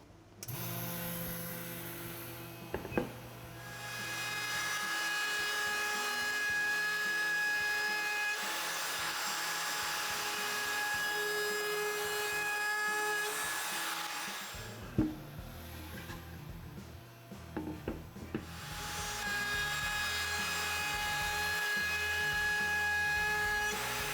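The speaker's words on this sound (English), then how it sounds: "I'm going to use a 1/4 inch round over bit on this version." A router fitted with a 1/4 inch round over bit shapes the edges of a wooden bedside tabletop, its high, steady whine running loud and close in long passes, broken by brief pauses and light knocks.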